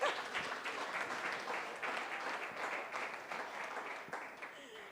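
Congregation applause at a Sunday church service, a dense steady wash of many hands clapping that carries evenly through and fades slightly, with voices faintly mixed in.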